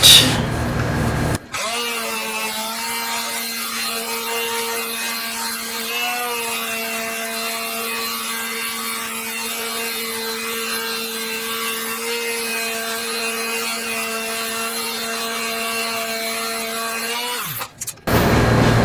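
A power sander works a resin and wood dice tower with 800 grit sandpaper, producing a loud, steady tonal whine with a grinding rub beneath it, running continuously for most of the clip before cutting off near the end.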